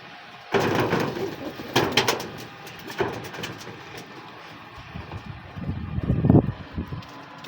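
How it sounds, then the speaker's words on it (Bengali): Native Bangladeshi pigeons coo in short, intermittent bursts close by, with some scraping and knocking sounds in between. "এই যে কবুতর দেশি একবার অরিজিনাল দেশি অরিজিনাল দেশি কবুতর"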